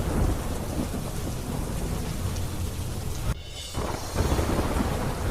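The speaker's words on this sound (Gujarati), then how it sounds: "રાજસ્થાનના જયપુરમાં ગ્રામીણ વિસ્તારોમાં ધોધમાર વરસાદ." Heavy, steady rain roars throughout in rural Jaipur, Rajasthan, with deep rumbling thunder underneath; the downpour briefly drops out near the end before surging back.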